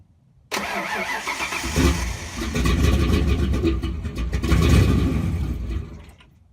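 A Fox Body Mustang with a turbocharged 302 engine cranks and catches abruptly, then settles into a loud, rough idle with a few throaty swells of revving, close to the microphone and without talk.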